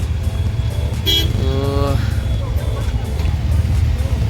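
Auto rickshaw ride with steady engine drone and road rumble throughout, a brief horn toot partway in, and a voice heard over the vehicle noise.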